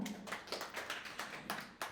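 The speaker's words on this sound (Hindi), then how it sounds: "एक बार जोरदार ताली बजाना" Hands clap at a poetry event: a sparse run of sharp, quick claps, fairly faint and evenly spaced, with no talk over them.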